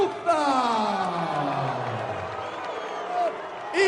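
A boxing arena crowd before a heavyweight fight cheers and whoops loudly as a ring announcer's voice booms over it, the roar sustained throughout with swelling shouts near the end.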